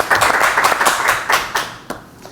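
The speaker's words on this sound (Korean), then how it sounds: "박수." A small studio group on a Korean golf talk show claps in brisk, close applause that thins to a few last claps and fades within about two seconds.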